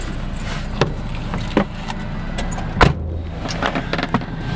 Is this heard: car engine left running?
yes